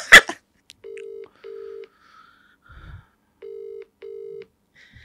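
Telephone dialing tones: four steady beeps in two pairs, clear and close, with a click at the start and a brief low rumble between.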